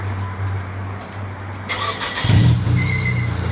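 A car engine with its muffler removed cranks and catches at about two seconds, then idles loud and raw for the remaining moments, close to the microphone with no talk over it.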